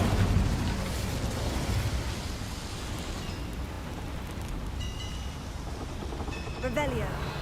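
Incendio fire spell cast in Hogwarts Legacy, a dense whooshing burst of flame that roars steadily for several seconds, with bright crackling and sparkling effects near the end, heard over game ambience.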